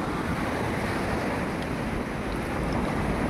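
Waves wash up at a river outlet on a rising tide in East Poblacion, a steady broadband roar of surf with wind buffeting the microphone, continuous and fairly close with no voices.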